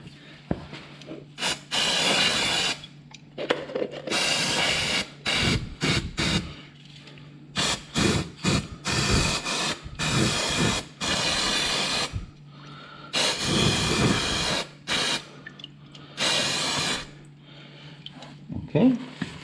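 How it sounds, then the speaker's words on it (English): Brake cleaner hisses in repeated sprays of one to two seconds onto parts of a BMW R1100GS motorcycle during an oil change, loud and close, with short gaps and someone talking between bursts. "we're gonna give it a dusting of brake clean and clean everything off"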